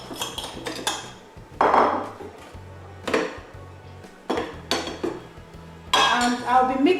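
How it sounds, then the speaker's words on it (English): Shortbread ingredients tipped into a mixing bowl in a kitchen, a series of separate clinks and clatters of spoons and containers against the bowl, fairly close, with short pauses between each addition and no talking. "I'm putting in all the ingredients into my mixing bowl."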